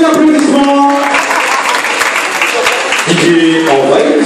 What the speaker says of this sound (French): Sur les applaudissements,